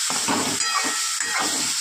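Short bursts of sizzle and steamy hiss from a little water added to frying chana dal with asafoetida in a pan, loud and close, with no voices.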